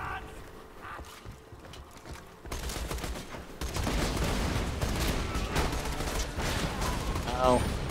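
Rapid video game gunfire from Borderlands 2 rattles in dense, sustained bursts that start sparse and then turn loud and continuous, with people talking in the background.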